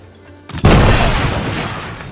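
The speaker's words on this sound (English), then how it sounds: "get Barry to chunk a grenade at these fools" Grenade blast in Jagged Alliance 3, a quiet lead-in followed by a sudden loud, close boom that rolls into a long, slowly decaying rumble, no talk.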